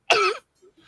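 A single loud, close cough bursts out alone, followed by a couple of faint low sounds in the quiet that follows.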